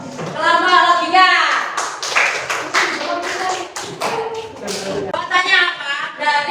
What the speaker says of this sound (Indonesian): kita beri tepuk tangan yang meriah untuk kelompok logika